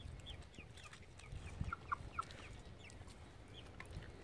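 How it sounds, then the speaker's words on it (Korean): Chickens cluck softly nearby while eating fish bones and scraps alongside a dog, with a few sharp pecking taps and quiet rustling in an otherwise calm outdoor setting. "이 뼈랑 찌꺼기는 이제 지금 다 닭이랑 복실이 줬는데 다 같이 사이좋게 잘 먹고 있네요"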